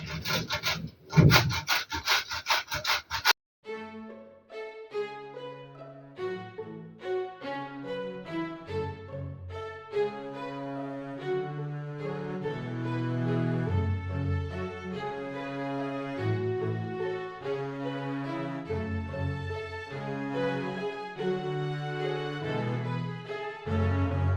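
A second portion of dough is rubbed over the top of a cheesecake in a tin, making a few seconds of close, harsh rasping strokes before music takes over.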